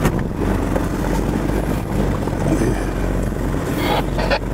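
A Mahindra Pik-Up work vehicle on road tyres pushes through a small bog, its engine giving a steady close rumble with splashing and sloshing noise over it.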